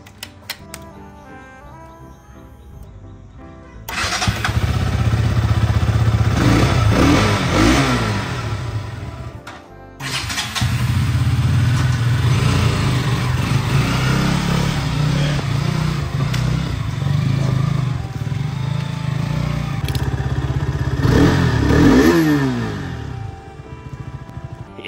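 A KTM motorcycle ridden through water and along a road, its engine loud and close with repeated revving rises and falls, briefly cutting off midway before pulling away again.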